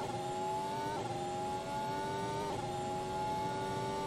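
A Formula 1 car accelerating around the Bahrain circuit's outer oval layout, a steady high-pitched engine whine that dips with two gear shifts and climbs again, sustained and fairly distant with no other sounds.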